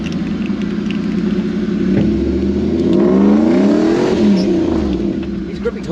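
A Toyota Land Cruiser with a 1UZ VVTi engine on a bush test drive, steady loud cabin engine drone swelling as it accelerates and shifts gear, with voices talking over it.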